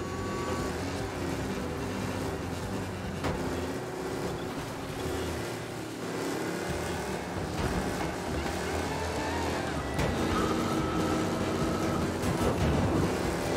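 Engine drone of a car driving in the video game Mafia Definitive Edition, a steady loud motor hum with shifting pitch running throughout, with no talk over it.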